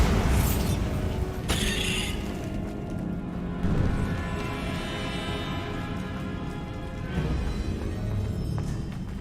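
Bombarda blasting spell explosions in Hogwarts Legacy: several heavy booms with crashing debris and rumbling aftermath, loud and close, spaced a couple of seconds apart over a continuous low game-ambience bed.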